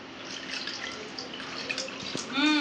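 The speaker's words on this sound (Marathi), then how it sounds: "पाणी टाका याच्यात." Water is poured into a container at home, a faint trickling and dripping that grows slightly toward the end, with people talking quietly in the background.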